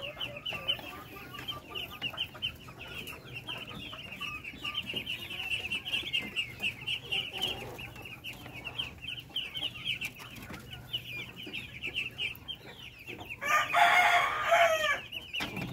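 Native chickens and chicks on a farm keep up a continuous chorus of high peeping and soft clucking, with a louder nearby crow breaking out near the end over a low background hum.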